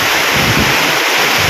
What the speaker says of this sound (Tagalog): Umiikot na yung hangin.